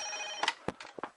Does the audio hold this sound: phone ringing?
yes